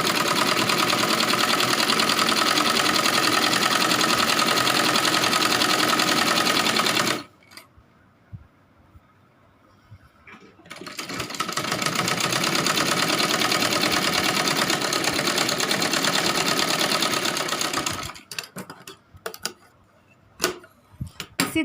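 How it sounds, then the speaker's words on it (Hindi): Close, loud sewing machine stitching a Rajputi kanchali and its long drawstring, running steadily for about seven seconds, pausing briefly, then whirring again for several more seconds before stopping in a few short jerks. "हम इसकी एक साथ ही सिलाई कर लेंगे"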